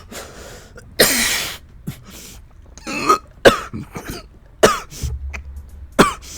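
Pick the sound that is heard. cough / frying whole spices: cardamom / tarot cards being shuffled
cough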